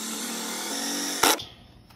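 A power drill runs steadily as it drives a screw into a jon boat while mounting a shallow-water anchor, then gives a short sharp burst and winds down into quiet.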